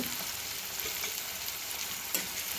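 Chopped onions frying in hot oil in a pan for dahi chole give a continuous close sizzle with faint crackles and a soft stirring scrape, and no voices.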